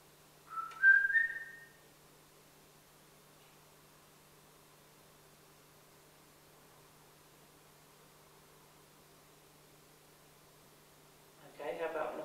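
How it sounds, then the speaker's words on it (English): A person whistles a short rising melodic phrase in a quiet museum room, loud and close for about a second, then near silence until a rustling noise at the end. "I'm just going to whistle, if you can follow on the tune"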